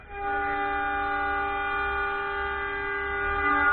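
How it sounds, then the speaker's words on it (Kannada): The Matheran Hill Station toy train, a narrow-gauge passenger train, hums steadily with a sustained whistle-like horn tone holding for several seconds, close and fairly loud. "ಟ್ರೈನ್ ಓಡ್ತಾ ಇದೆ, ನೋಡ್ಕೊಬಿಡಿ"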